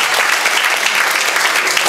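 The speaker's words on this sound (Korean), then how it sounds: "귀한 말씀 주신 우리 박유한 회장님께 다시 한번 큰 박수 드리겠습니다." Steady, dense applause from an audience at a Korean memorial society's inauguration ceremony, filling the room evenly and loudly without a break.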